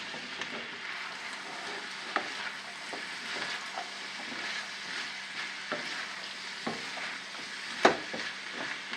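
Onion, celery, parsley and garlic sizzle steadily in a hot wok, a dense crackling hiss with scattered sharper pops and a few louder stirring clacks, close and continuous with no talking.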